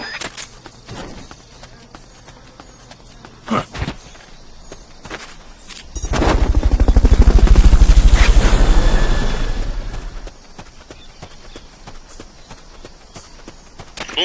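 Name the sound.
Fulton recovery helicopter in the video game Metal Gear Solid Peace Walker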